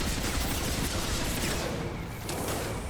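Continuous heavy gunfire in a Mass Effect 2 firefight, dense overlapping shots forming a loud steady barrage throughout.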